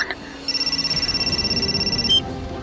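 An incoming call rings on a telephone as a rapid, pulsing electronic trill that lasts under two seconds, clear and close over quiet room tone.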